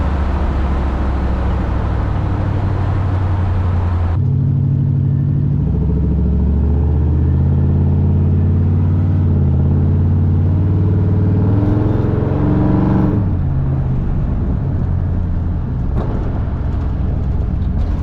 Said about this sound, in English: We got tire noise and wind noise and all those other noises